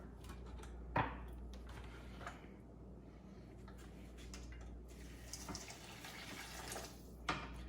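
A kitchen tap runs water into a pot for cooking dal and rice, a faint, continuous hiss with a couple of light clunks.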